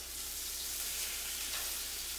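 Chicken fried steak fries in a pan over turned-down heat, giving a soft, steady, continuous sizzle with no talking.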